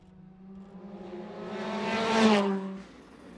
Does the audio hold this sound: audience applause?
no